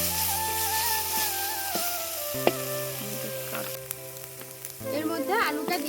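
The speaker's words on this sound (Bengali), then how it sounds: "মাছটাকে হালকা করে ভেজে নিচ্ছি, যাতে আঁশ গন্ধটা না থাকে।" Fish lightly frying in oil, a steady close sizzle with a few sharp clinks and tonal background hum.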